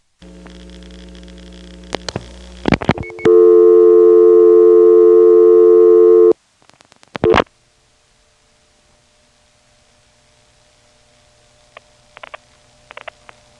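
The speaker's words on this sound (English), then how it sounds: "There's some dialing crosstalk on this trunk from the West End step to the downtown steps 5 selector" Crosstalk recorded on a trunk between a West End step-by-step telephone exchange and a downtown step selector: buzzy tones, a steady harmonic hum for several seconds, sharp clicks, then faint intermittent dial pulses over a quiet line.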